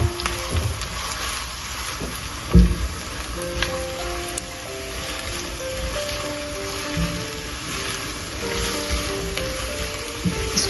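Onions frying in a pan for Mianwali dal: a steady close sizzle, loud and continuous, with occasional stirring knocks and one sharp clatter, and no talking.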